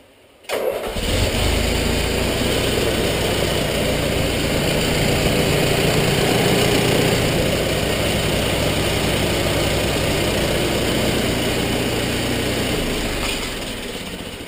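An International Harvester IH 354 tractor engine cranks and catches after a brief quiet start, then settles into a steady, loud, close idle that runs on alone for the rest of the stretch.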